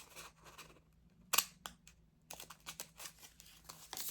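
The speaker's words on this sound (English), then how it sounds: "I'm just going to cut out some random washis that I like" Scissors snip through pieces of washi tape in a quiet room, giving a few separate crisp cuts, one sharp loud snip early and a run of quicker, lighter snips near the end, with paper rustling between them.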